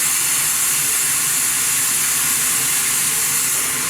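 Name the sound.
2-8-2 steam locomotive hissing, Grand Canyon railway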